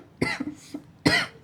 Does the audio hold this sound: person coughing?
yes